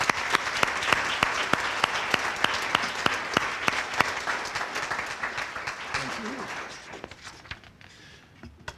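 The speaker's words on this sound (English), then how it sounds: "let's have a round of applause for him" Audience applause at a police services awards ceremony: sharp, rhythmic claps over a dense crowd wash that fade out over the last seconds, with faint voices and movement underneath.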